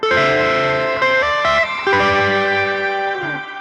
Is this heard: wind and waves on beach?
no